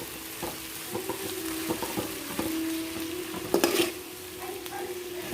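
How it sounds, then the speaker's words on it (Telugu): Onions frying in hot oil in a pan, stirred now and then: a steady close sizzle runs throughout, with repeated spatula scrapes and a brief louder burst of activity near the end. "ఆనియన్స్ అనేది బాగా ఫ్రై అయిపోవాలి"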